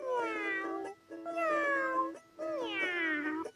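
A cat gives three long, clear meows, each about a second long with short pauses between them, close and alone with no other sound.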